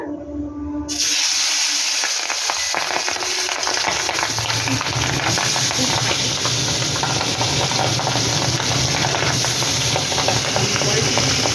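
Papda fish frying in hot oil, a loud, dense sizzle that bursts in as the pieces go in, then holds steady and close with a constant crackling hiss.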